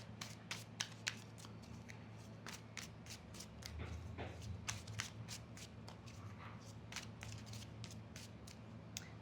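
Tarot cards are shuffled by hand in a long steady run of crisp riffling and slapping bursts, close and quiet, over a low background hum.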